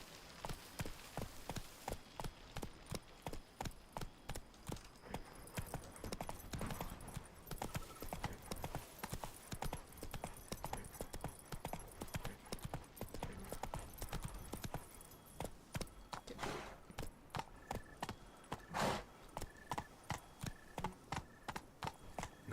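Roach the horse galloping in the video game Witcher 3: fast, regular, close hoofbeats pounding throughout, with a faint continuous background underneath.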